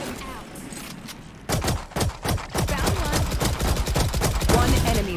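Rapid gunfire in the tactical shooter Valorant, a dense string of sharp shots starting after a quieter stretch, with voices talking over the firing.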